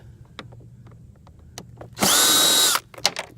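A power drill backs screws out of a Champion generator casing during a teardown, one loud steady burst of under a second amid faint clicks and handling noise.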